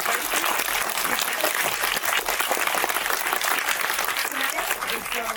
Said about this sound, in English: Let's give a round of applause to the director